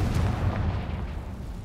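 A dense, rumbling blast from the Confringo fire spell in the video game Hogwarts Legacy rolls on continuously as a loud, low roar with no voices over it.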